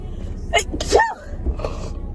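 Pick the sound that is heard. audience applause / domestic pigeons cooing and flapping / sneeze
sneeze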